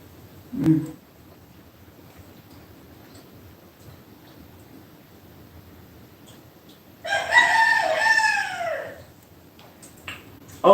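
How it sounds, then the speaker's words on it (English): A rooster crows once outdoors for about two seconds, a clear, moderately distant call in an otherwise quiet setting, with a short knock just before it. "you know why that rooster is making the noise?"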